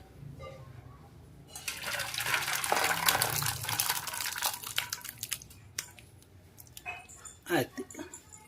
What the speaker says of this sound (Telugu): ఇప్పుడు ఈ పులుసును మనం వేరే పాత్రలోకి తీసేసుకుంటున్నాం.